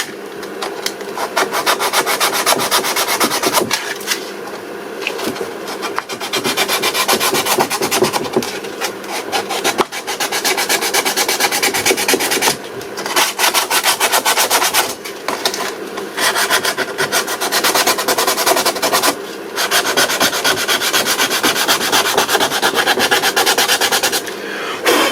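A car dashboard is sanded by hand with coarse 80-grit sandpaper: loud, close, continuous rasping strokes in long runs with brief pauses between them, rough and scratchy throughout with no talking.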